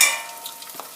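A brief stir of chicken tikka masala in a hot pan: a short scrape of sizzling, frying sauce that quickly fades, with no talk.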